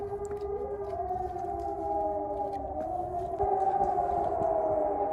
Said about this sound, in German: Gerade im Moment sind es Sirenen am Testen.